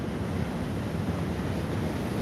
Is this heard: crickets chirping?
no